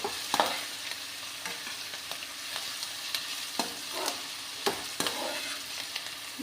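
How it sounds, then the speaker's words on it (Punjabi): Garlic and onion fry in a pan with a quiet, continuous sizzle, broken by light scraping and tapping as a utensil stirs them steadily, with no voices. "ਲਗਾਤਾਰ ਹਲਾਉਂਦੇ ਹੋਏ ਆਪਾਂ ਵੀ ਲਸਣ ਪਿਆਜ਼ ਨੂੰ ਪਕਾ ਲਾਂਗੇ"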